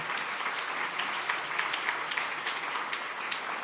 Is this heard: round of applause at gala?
yes